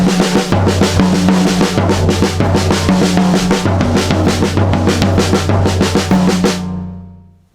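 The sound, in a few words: drum kit playing accented triplet exercise 3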